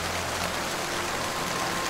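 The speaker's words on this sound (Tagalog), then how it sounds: "Napakalakas pa rin ng ulan ng sandaling yun" Heavy rain pours in a steady, dense hiss without letup, close and fairly loud, with no voices.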